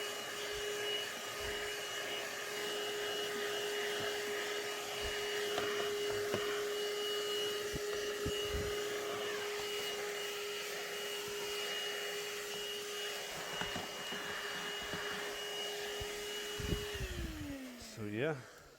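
A ThisWorx portable corded handheld car vacuum cleaner runs continuously with a steady, fairly loud motor whine and airflow rush, then spins down at the end with a falling pitch.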